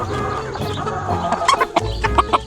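Close Freedom Ranger meat chickens, a non-GMO breed, cluck in quick repeated bursts, the calls growing louder and more clipped toward the end, with a low thump midway.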